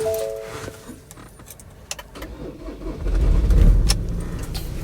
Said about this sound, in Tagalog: So bali, start natin para ma-check natin ng maayos.